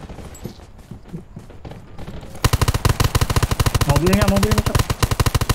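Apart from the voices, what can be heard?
gunfire in video game Undawn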